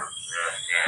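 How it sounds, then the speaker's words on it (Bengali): A frog croaks close by in a garden after overnight rain, a short rasping call with a rhythmic pulse, loud and alone. "কিন্তু ব্যাঙের ডাক শোনা যায়"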